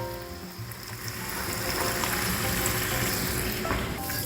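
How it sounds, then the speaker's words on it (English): Bacon sizzles and crackles steadily in a pan over medium heat, a dense continuous fry that swells slightly louder after the first second and holds, with no talking. "The bacon is cooking now, and I'm turning it over so it cooks evenly on both sides."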